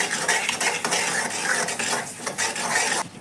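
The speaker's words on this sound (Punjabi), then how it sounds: "ਨਾਲ ਦੀ ਨਾਲ ਆਪਾਂ ਨੇ ਇਹਨੂੰ ਚਲਾਉਂਦੇ ਰਹਿਣਾ ਏ" A semolina barfi mixture is stirred continuously in a pan over high heat on the stove, giving a steady close scraping and swishing of the utensil against the pan with brief pauses, alone without voices.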